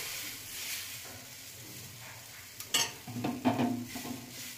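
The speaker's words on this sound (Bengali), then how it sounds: "তেল দিয়ে এপিট ওপিট ভেজে নেবো ভালো করে" Wheat batter flatbread frying in oil in a pan, a soft sizzle near the microphone that grows louder near the end as a spatula scrapes and clinks against the pan.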